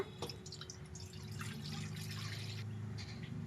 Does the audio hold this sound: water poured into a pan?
yes